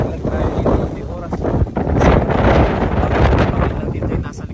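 Strong wind outdoors buffets the microphone with loud, gusty low rumbling, while a person talks under it.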